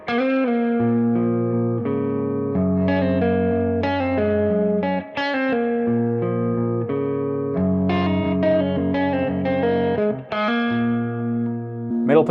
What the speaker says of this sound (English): We're gonna start with basic edge of breakup tones, just showing you the neck, the middle, and the bridge position.